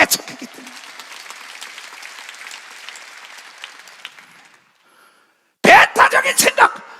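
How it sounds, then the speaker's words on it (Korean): A crowd claps steadily for about four seconds, then the applause fades into a brief silence before a loud voice starts speaking. "박수"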